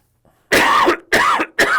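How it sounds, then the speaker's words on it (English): Three harsh coughs come close to the microphone in quick succession, each a loud rasping burst separated by short pauses, with no talking around them. "I'm gonna cough."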